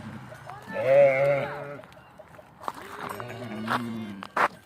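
Sheep and lambs bleat on a farm as the flock heads out to graze in the evening, with two drawn-out calls close by and a sharp knock near the end.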